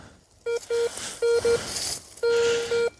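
Ace 250 metal detector sweeping over ground in a forest sounds a series of clear electronic beeps, short tones in pairs and then a longer one, loud and near over faint background rustle.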